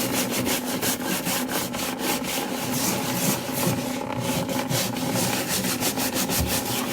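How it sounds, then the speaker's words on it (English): Hard scrubbing of a Cricut cutting mat to strip off residue, a steady, close abrasive rubbing with rhythmic strokes that runs continuously throughout. "I'm rubbing it pretty hard because I want to get this all off"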